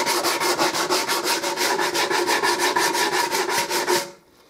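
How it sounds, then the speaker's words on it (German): Sandpaper rasps rhythmically back and forth over a wooden chest-of-drawers top panel, close up, in about twenty quick, even strokes before stopping. "Ja, und zum Schluss das gute alte Schleifpapier."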